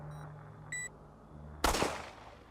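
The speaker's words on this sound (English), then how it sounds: "Gunshots?" In Resident Evil 4, a brief electronic beep sounds, then a single sharp, loud gunshot crack with a short decaying tail over quiet background hum.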